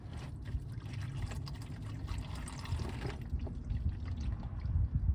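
Engine oil from a 2017 Dodge Charger draining into a pan, a steady close pouring trickle that runs continuously and grows slightly louder toward the end, with no talking.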